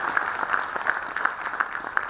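A crowd at a campus graduation ceremony applauds with steady, moderately loud clapping throughout, with no one speaking over it.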